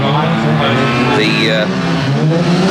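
A Skoda rally car with a 1.3-litre engine strains hard on a gravel stage at Rally Australia 1994, its steady loud engine drone running throughout with a brief whining tone mid-way, close and continuous.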